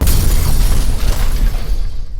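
A loud explosion sound effect, a heavy rumbling boom with dense low-end roar that sustains for about two seconds before thinning out.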